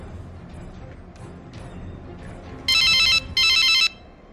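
A telephone in an animated series rings with two loud electronic trill bursts over quiet background sounds and faint movement.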